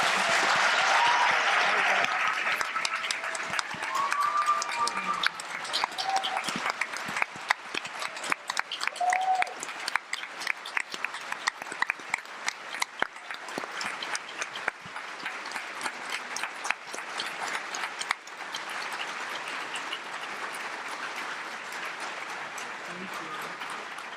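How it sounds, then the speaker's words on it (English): Sustained applause from a seated audience honoring the panelists at a theater and education panel event, steady clapping of many hands that thins slightly toward the end, with faint voices underneath. "I would like to just ask everyone to offer another round of applause to our panelists."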